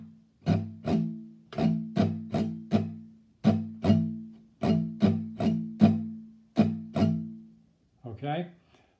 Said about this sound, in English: So the entire strum will, in the end, sound like this.